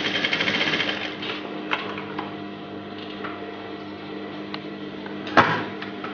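A sewing machine stitches an invisible zip with a fast, steady mechanical whir, running continuously close by with a brief louder clack near the end.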